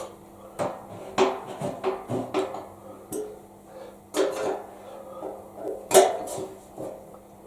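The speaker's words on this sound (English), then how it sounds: "Just going to tighten them up nice and tight." Screws being tightened on the mount of an Oyster 11 85cm automatic motorhome satellite dish, heard as a close run of irregular metallic clicks and taps of the tool, with brief pauses between bursts.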